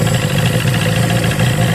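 A Mercury Mariner two-stroke outboard engine runs steadily while being winterized, giving a loud, close, continuous idling drone with a buzzy low rumble and no speech.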